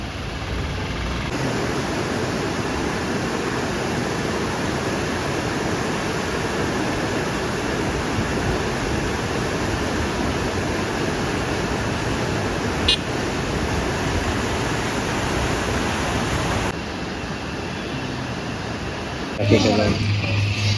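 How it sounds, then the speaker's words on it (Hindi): Kallar waterfall near Munnar, Kerala, roaring as a steady, dense broadband rush of falling water that holds constant throughout, with a brief clatter near the end. "ये आपके सामने है कल्लार वाटरफॉल"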